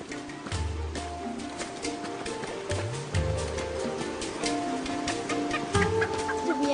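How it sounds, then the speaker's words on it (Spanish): A hen brought along to school clucks in bursts close by, with other fowl sounds and a busy background throughout. "Buena suerte con esa gallina."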